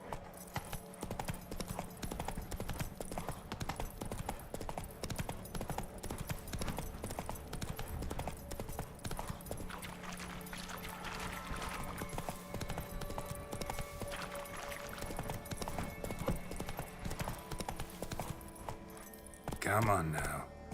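The horse Roach gallops in The Witcher 3 video game, with fast, continuous clip-clopping hooves running for about twenty seconds, game ambience behind them and a voice briefly heard.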